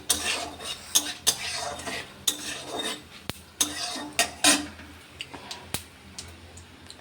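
Papaya pieces being stirred in a pan with panch phoron, radhuni and other whole spices for a milk-based shukto: repeated sharp clinks and scrapes of a utensil against the pan at an irregular rhythm, close by, with only faint frying underneath.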